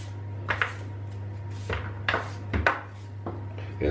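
Knife chopping a new, very fresh onion into half-moon slices on a cutting board, several distinct cuts in irregular bursts over a steady low hum.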